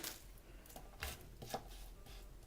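Carrot is cut with a knife on a chopping board, making a few soft, irregular thuds. Quiet and close, with no voices.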